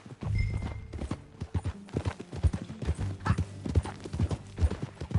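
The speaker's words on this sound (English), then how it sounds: "That a new horse?" Horse hooves clip-clopping at a steady walking rhythm in the video game Red Dead Redemption, clear and close, with an occasional faint snort and no speech.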